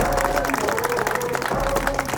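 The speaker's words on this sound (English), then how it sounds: "Big round of applause for everybody who's traveling far and wide." Crowd applause and cheering at a Crown Rally car event, loud dense clapping from a gathered audience with a faint voice mixed in beneath.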